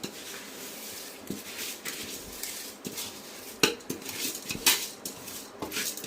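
Rice goes into a pot of spicy biryani mixture, heard as faint, scattered metallic clinks and scrapes of a utensil against the pot, with soft irregular knocks and no talking.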